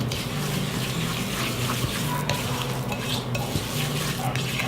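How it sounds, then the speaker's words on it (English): Butter or coconut oil creamed with sugar for dairy-free lactation cookies: a steady, continuous mixer-like churn with faint clinks of a bowl and utensil, no voices. "So mix together cream, was what they call it, your butter or your coconut oil and your sugar."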